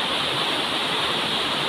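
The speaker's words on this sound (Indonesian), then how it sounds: "Nah, ini debit air di Sungai Bogowonto teman-teman, seperti ini." River water pours over a weir on the Bogowonto River at a dam revitalization site, a dense, unbroken roar of rushing water, loud and close, with no voices.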